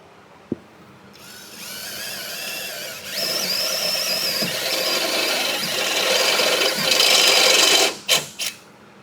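A steady, high-pitched grinding whine of a step drill bit cutting metal, rising in pitch partway through, then cutting off with two short bursts at the end.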